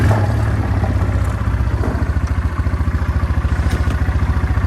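A small engine of a 20-year-old Yamaha 4x4 ATV idles nearby with a steady, rapid chugging pulse, loud and even throughout.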